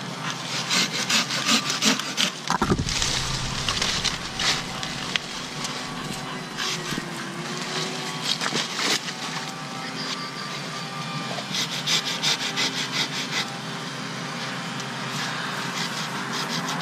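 Steady back-and-forth strokes of a hand saw cut through a mango tree branch outdoors during top working, a continuous rasping woody rhythm with faint rustling around it.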